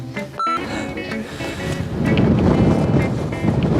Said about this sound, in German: Es windet.